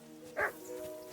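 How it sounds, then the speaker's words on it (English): A single short dog bark from the video game Kingdom Come: Deliverance II, heard once at moderate distance over a low steady hum, with no speech over it. "Jesus, Henry, that barking's driving me nuts."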